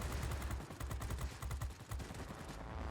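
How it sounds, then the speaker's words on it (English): Rapid, rolling bursts of heavy 23mm aircraft cannon fire from an XP-36F in World of Warplanes thud continuously, loud and dense, with barely a pause between rounds. "Try to get these 23mm cannons to do something"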